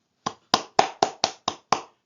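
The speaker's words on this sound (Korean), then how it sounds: "이들에게 박수를 한번 쳐주세요." Applause for Vietnam War veterans at a Korean commemorative gathering. Seven sharp, evenly spaced handclaps ring out close and crisp in a quick rhythm, with no voices.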